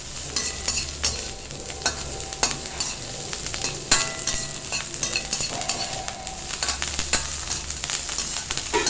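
Cashews, coriander and curry leaves sauté in a pan for rava idli, a continuous close sizzle punctuated by rapid spoon scrapes and taps against the metal, with no speech.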